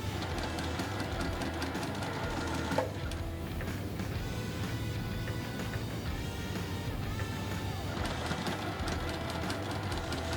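A sewing machine chain-pieces quilt blocks in a quiet room, its needle running in a steady, fast mechanical rattle with brief pauses and restarts between seams.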